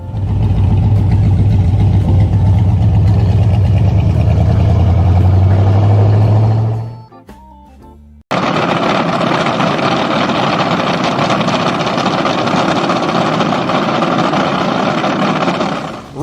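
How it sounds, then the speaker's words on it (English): A Ross Racing drag racing engine runs loud and steady for about seven seconds with a deep idling rumble, cuts off briefly, then roars back at full volume for the rest of the clip. "Ross Racing Engines of Niles, Ohio built this bad power plant for Tyler Hilton and Team Great Expectations 3"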